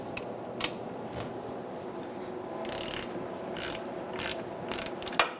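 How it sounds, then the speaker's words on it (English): A hand ratchet with a 16mm socket cracks loose the caliper bracket bolts on a Ford Ranger, giving close, rapid clicking in uneven bursts. "we're going to use a 16mm socket to loosen up our caliper bracket bolts"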